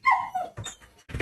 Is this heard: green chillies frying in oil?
no